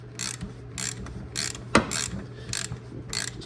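Ratcheting brake caliper piston compressor tool pushing the pistons back into a caliper on a 2013 Lexus RX350 during a brake pad replacement; a steady series of close, crisp clicks in bursts roughly every half second, with one sharper knock midway and no speech.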